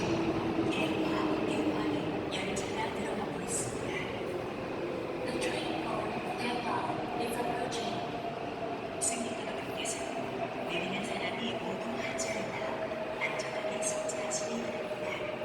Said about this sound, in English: And here comes the subway.